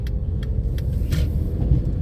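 A car drives along a road near a junction, heard from inside as a steady low rumble of engine and tyres with no talking.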